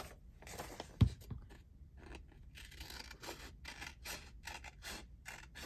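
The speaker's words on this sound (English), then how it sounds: "So I've got to cut across the crease." Scissors snip across a folded paper crease for a junk journal page, a close sequence of crisp cutting and scraping strokes with one sharp click near the start and no speech.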